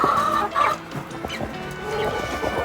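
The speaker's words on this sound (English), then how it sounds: "All right, I gotta take care of these chickens." Several chickens cluck and murmur close by, with short irregular calls overlapping in a busy flock chatter.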